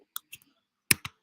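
A few sparse, faint keyboard keystrokes click close by in an otherwise quiet room, two light taps followed by a pause and then two sharper ones.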